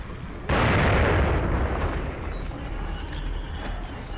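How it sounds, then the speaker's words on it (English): A grenade detonates with a sudden loud, close blast in The Evil Within, followed by a rumbling roar that slowly decays over several seconds with faint crackling debris. "But we'll soften it up with a few grenades."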